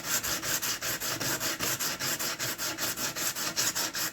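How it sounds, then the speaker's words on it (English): A random orbital sander whirs against painted wood on a bass guitar body in a steady pulsing rhythm, rapid regular strokes of abrasive rubbing, close and continuous throughout. "I've actually tried using the DA sander"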